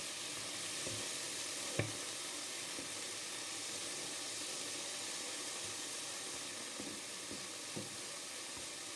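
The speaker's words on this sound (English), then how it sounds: "Now we deglaze the pan." Pan with meat juices and sliced garlic sizzling as white wine vinegar deglazes it, a steady close hiss and crackle with a few faint clinks of stirring throughout.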